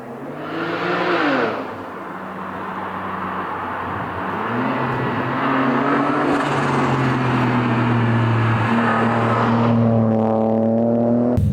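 A single-turbo BMW 335i with a new exhaust drives up a mountain road, its engine droning steadily and building in pitch, loud and close, with no talk.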